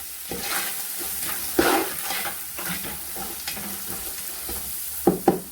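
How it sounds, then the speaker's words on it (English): Chopped onion fries in a hot pan for fried rice, a steady close sizzle broken by the occasional scrape and knock of stirring. "So you're just gonna wait for this to fry for a bit."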